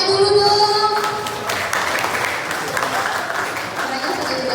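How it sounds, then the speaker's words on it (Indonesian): An audience applauds in a group setting, steady clapping carrying on for several seconds at a moderate, even level, with some voices underneath. "Oke, tepuk tangannya dulu dong."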